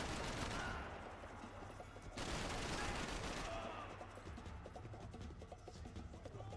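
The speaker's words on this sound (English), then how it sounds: "God, I love the AK in this." Sustained bursts of AK rifle fire in the video game Max Payne 3, dense rattling gunfire with a short pause before resuming, loud and continuous with game background noise.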